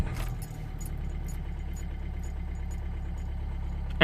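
A Nissan Qashqai 1.5 dCi diesel idles steadily in a low, even drone, with a brief burst of noise right at the end.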